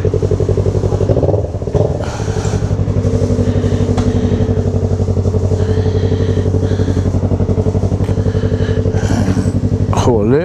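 Yamaha MT-03 motorcycle fitted with a full Atalla 2-into-1 exhaust in 304 stainless steel, 2.5 inches, on a test ride: a steady, loud engine drone with rising and falling revs, close and continuous throughout.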